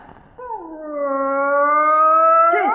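A voice imitates a dog howling, a single sustained, rising-then-steady wail that holds for about two seconds before breaking off, close and loud with no talk over it.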